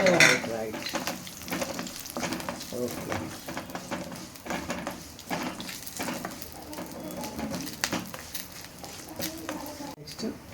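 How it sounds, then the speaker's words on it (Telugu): Cashews, onions and cumin fry in a pan with a steady close sizzle, broken by stirring scrapes and clinks, while someone talks over the cooking. "కాజు వేగాలి, కొంచెం దూరంగా వేగాలి."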